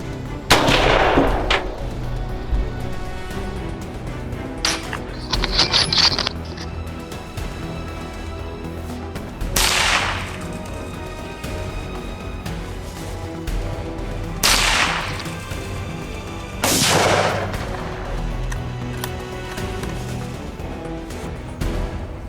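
Suppressed .308 and .300 Blackout rifles firing during a Texas wild boar hunt, four or five sharp cracks spread several seconds apart over a quiet outdoor background.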